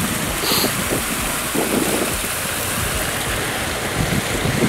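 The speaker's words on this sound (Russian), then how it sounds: "Вот такой вот водопадик маленький." A small waterfall rushes and splashes in a continuous, fairly close wash of water noise, steady throughout with no voices over it.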